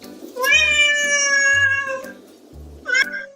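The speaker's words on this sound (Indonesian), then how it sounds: "kami menampilkan audio dari kucing tersebut ataupun suara dari kucing tersebut" A cat meows loudly and up close, two long drawn-out cries followed by a shorter third one, with no other sound around them.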